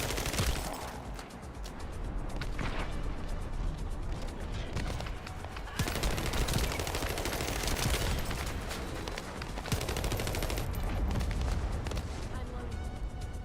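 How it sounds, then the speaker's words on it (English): Heavy bombardment and gunfire in The First Descendant, a dense, continuous barrage of bursts and booms that stays loud for the whole stretch, with talk mixed in underneath. "here comes a bombardment probably."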